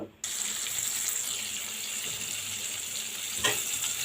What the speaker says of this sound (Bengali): এই জন্য তেল এখন এখান থেকে ঢেলে নেব